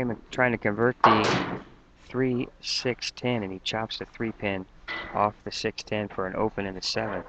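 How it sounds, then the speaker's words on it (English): A door creaks open at a bowling alley during a championship match, while a commentator talks continuously and nearly covers it. "that little creaking sound you hear is the door opening"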